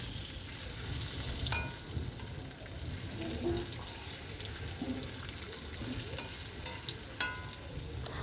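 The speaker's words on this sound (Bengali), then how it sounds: "আরেকদিকে গ্যাসে আমি কাঁকরোল ভাজছি" Oil sizzles and crackles steadily as round spiny gourd slices coated in salt and turmeric fry in a pan on a gas stove, with occasional clinks of a spatula stirring, no voices over it.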